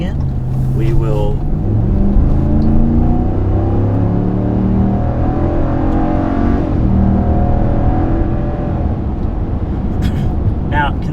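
A Ram 1500 Limited pickup accelerates onto a freeway, its engine note rising and shifting through gears from inside the cab, a steady loud drone with road noise, while a person talks over it.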